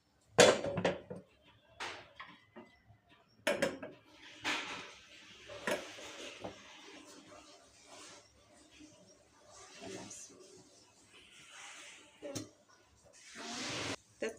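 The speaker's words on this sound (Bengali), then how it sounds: "তা বাগারের জন্য আমি একটা প্যান নিয়ে নিচ্ছি" Metal kadai being handled in a home kitchen before tempering for a prawn dish, a series of sharp clanks and knocks of cookware spaced irregularly, fairly close, with quieter rustling between hits.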